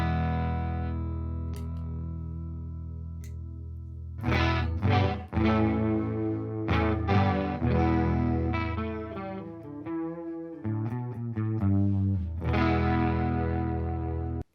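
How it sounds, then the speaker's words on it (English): Electric guitar played through a ZIG-ZAG true analog bucket-brigade chorus-vibrato pedal modeled on the EHX Small Clone, a sustained chord ringing out, then a rhythmic riff of strummed chords and single notes with lush, wavering chorus shimmer, loud and alone. "It's based off of the legendary EHX small clone chorus pedal, and it is a true analog bucket brigade chorus."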